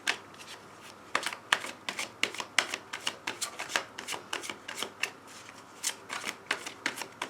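Tarot cards being shuffled close up, with steady rhythmic riffling and light slapping taps throughout.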